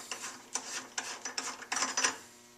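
Plastic cap being unscrewed from the bottom of a water storage container at a sink while wearing gloves, making a run of short close ratcheting rubs and grinds in bursts.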